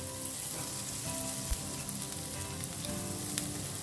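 Steady sizzling of finely chopped garlic frying in melted butter in a pan, a continuous crackly hiss with a couple of soft knocks, fairly quiet and close, no talking.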